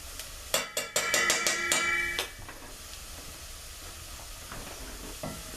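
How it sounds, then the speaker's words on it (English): A spoon scrapes and taps quickly against a pan as all-purpose flour is stirred in for scalloped potatoes, then a soft steady sizzle carries on alone, close and fairly quiet. "we're going to stir that in until it changes in color"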